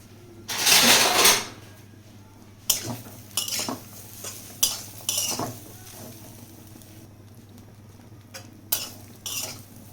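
Dried loitta fish being stirred and dry-roasted in a pan makes intermittent bursts of scraping and rustling, one long sweep then several shorter strokes, with quiet pauses between, near and without voices.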